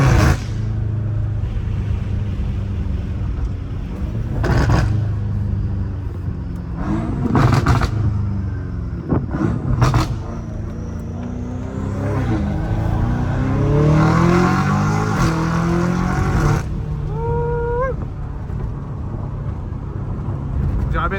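A catless BMW M5 Competition engine idles with a loud exhaust, then revs sharply several times, pitch climbing and falling, with a brief voice near the end.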